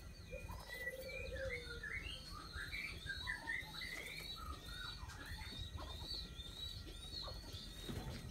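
Domestic pigeon being handled for a nasal treatment, giving soft low coos beneath a busy backdrop of many chirping birds, steady and fairly close.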